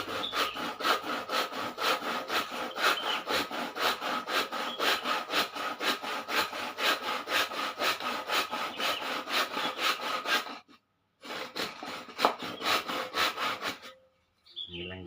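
A handsaw rasps crosswise through wood in a fast, steady back-and-forth rhythm, close up, pausing briefly near the end before resuming.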